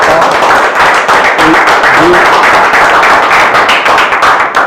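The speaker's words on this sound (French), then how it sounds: "Acclamation aussi pour votre formateur qui a donné de son temps" A room of trainees at an MMA refereeing course applauds their trainer, giving steady, dense, loud clapping that holds evenly from start to finish.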